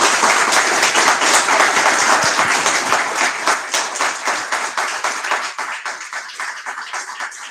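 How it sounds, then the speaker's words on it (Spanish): Applause after a doctoral thesis defense, loud and close at first with many overlapping claps, then thinning to fewer, more separate claps as it fades, with no speech. "Bueno, un aplauso."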